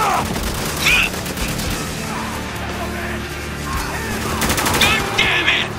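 Heavy gunfire rattles through a battle in Spec Ops: The Line, a dense continuous barrage with sharper crackling bursts near the start and end, loud and close.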